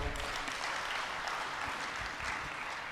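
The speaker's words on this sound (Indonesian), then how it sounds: "Tepuk tangan buat beliau." Applause from an audience at a Hindu organisation's inauguration ceremony in Tabanan, Bali, a steady, moderately faint clapping that holds evenly throughout with no voices over it.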